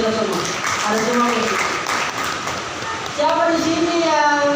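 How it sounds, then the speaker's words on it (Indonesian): Applause from an audience at a motivational seminar in Indonesia, a steady wash of clapping running beneath a speaking voice for the whole stretch. "Tepuk tangan dulu buat kita semua."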